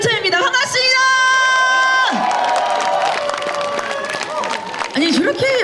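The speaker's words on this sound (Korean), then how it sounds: "제가 생각했던 것보다 박수와 함성 소리가 작은 것 같아요" An outdoor festival crowd at a Daegaya royal tomb walking event cheers, whoops and claps loudly for a singer, with sustained sung or shouted tones over the noise and the crowd's roar continuing throughout.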